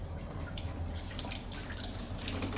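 Water from an aquarium drains steadily through a siphon tube into a bucket, a soft continuous trickle with faint dripping, close and alone without talk.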